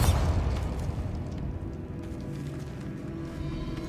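A Bombarda blasting spell goes off in Hogwarts Legacy, a loud, deep booming explosion that rolls on as a sustained low rumble for several seconds.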